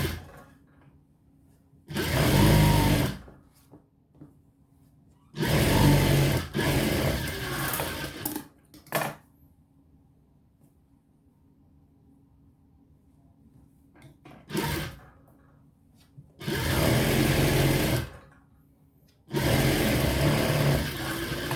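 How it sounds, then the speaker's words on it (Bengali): Sewing machine stitching a blouse sleeve, several loud bursts of rapid mechanical whirring lasting a second or two each, separated by quiet pauses. "কতজনে হাতে সেলাই দেয়, মেশিনে সেলাই দেয়, আমি দেব মেশিনে সেলাই।"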